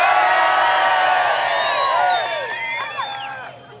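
A large outdoor crowd at a supercar show cheers and whoops loudly for a car, with overlapping shouts and whistles that swell and then fade out over a few seconds.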